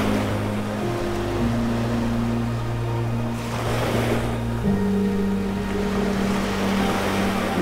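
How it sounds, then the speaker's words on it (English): Small ocean waves break on the beach at Vanderbilt Beach in North Naples, Florida, early in the morning, a continuous soft surf wash with a low steady motor-like hum running underneath. "A few more little waves out here than yesterday morning."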